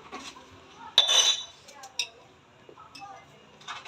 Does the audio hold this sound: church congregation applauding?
no